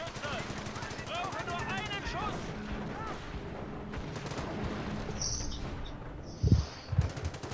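Gunfire from the war game Company of Heroes, aimed at a machine gun nest, crackles as rapid bursts and shots under German voice chat, with a heavier blast thudding near the end.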